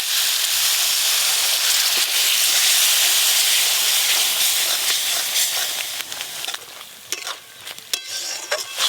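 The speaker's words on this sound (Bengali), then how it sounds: "অল্প একটু জল দেবো।" Water poured into a pan of hot fried spice paste with ground poppy seed for egg curry sets off a loud, broad hiss and sizzle, easing over several seconds into irregular bubbling and stirring clicks.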